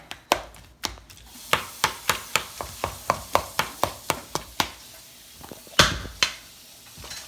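A spoon stabs repeatedly into thick batter in a bowl, producing a steady run of sharp, close, distinct thuds with a couple of louder hits and no voices.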